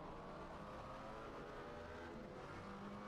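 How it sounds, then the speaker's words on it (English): A GT3 race car engine in the sim racing game Assetto Corsa Competizione at Donington Park drones steadily throughout, with a dense mechanical roar that shifts pitch as it works down through gears. "Especially on those downshifts, sounds really good."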